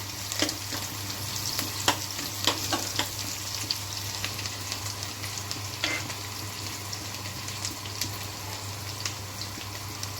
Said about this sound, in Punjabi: ਲਸਣ ਤੇ ਹਰੀਆਂ ਮਿਰਚਾਂ ਚੀਰੀਆਂ ਸੀ ਜਿਹੜੀਆਂ ਉਹ ਪਾ ਦਾਂਗੇ ਲਸਣ ਪਹਿਲਾਂ ਥੋੜਾ ਜਿਹਾ ਭੁੰਨ ਲਾਂਗੇ